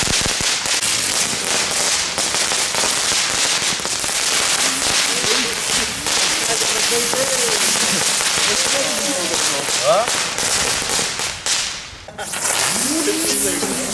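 A heksenkringetje (witch-circle) firework and other fireworks go off nearby, a dense, continuous crackling barrage of sharp pops and whipping bangs. Voices talk underneath.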